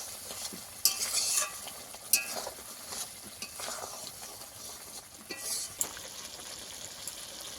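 Ground cumin, garam masala and pepper are stirred into a thick bom fish curry in a pan, with soft sizzling, scraping spoon strokes and a few sharp metallic clinks, no talking.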